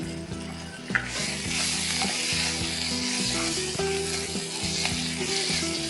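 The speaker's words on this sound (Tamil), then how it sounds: "இப்போ இந்த சிக்கன் இது கூட சேர்ந்து நல்லா வதங்கட்டும்" Chicken sautés in hot ghee with ginger-garlic and chilli paste, a steady close sizzle of frying with a faint low hum underneath.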